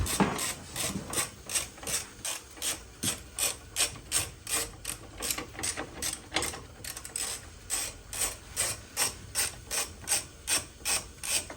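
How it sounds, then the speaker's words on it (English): A ratchet repeatedly clicks back and forth in quick, even bursts as a 17mm bolt is worked loose from the rear motor mount bracket of a Honda Civic, the strokes close and continuous. "pull the 17mm bolt that holds it to the actual rear motor mount."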